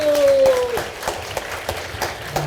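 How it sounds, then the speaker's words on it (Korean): Audience applause at a Korean book concert and launch event honoring the book's nine authors, a brisk burst of many hands clapping that starts strong and thins out, with a voice briefly heard near the start. "좋은 책 내주시는 이 9분들께 다시 한번 큰 박수 부탁드리겠습니다."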